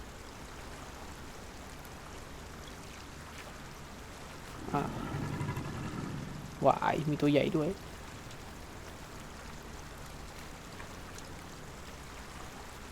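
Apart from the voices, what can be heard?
waterfall flowing in video game The Isle Evrima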